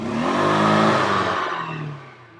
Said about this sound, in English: There's literally no other sound than that engine revving up